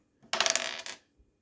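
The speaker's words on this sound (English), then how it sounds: "Time to roll the dice. One dice." A single die rolled onto a hard surface during a tabletop game, a quick clattering burst of tumbling impacts lasting under a second, then a faint final tap as it settles, close and alone without talk.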